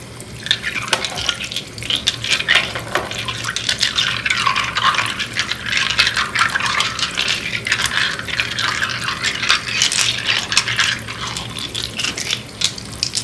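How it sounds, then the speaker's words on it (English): Running tap water rinses a batch of crystals, including orange calcite, making a steady, close splashing rush that continues evenly throughout with no voices. "So now I can just rinse them all off."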